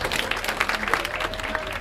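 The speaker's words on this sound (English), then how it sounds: "let's give them a round of applause," Warm, continuous applause from an event crowd honoring participants of the Chicano movement, dense and even throughout, with a faint voice or tone underneath.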